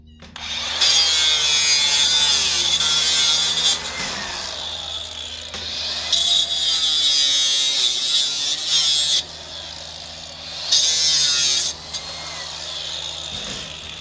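Wood being cut at an angle with a power saw, three long loud bursts of whining, buzzing cutting separated by brief pauses, close by with no talking.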